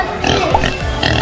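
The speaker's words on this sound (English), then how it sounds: "pigs." Pigs grunting and oinking at a zoo animal exhibit, a close, loud cluster of snorts over a brief moment.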